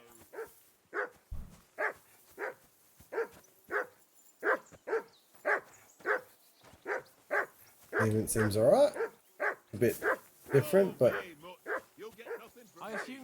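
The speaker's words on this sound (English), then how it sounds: "I assume you can hear that damn dog of yours barking." A dog in the game Kingdom Come 2 barks in a steady, regular run of loud, close barks. Someone speaks briefly partway through, and busier game sounds and voices join near the end.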